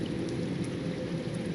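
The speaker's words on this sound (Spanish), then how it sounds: "Antes de que amaneciera comenzó una tormenta tan fuerte que el río volvió a crecer." Heavy rain pours steadily in a strong thunderstorm, a loud dense hiss with a low rumbling undertone throughout, no voices.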